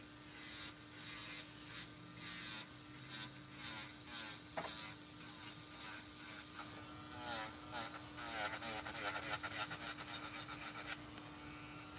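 An electric nail drill with a carbide or diamond bit files gel nails, giving a steady high buzzing whine with shifting grinding strokes as the bit works the nail, while a voice talks over it.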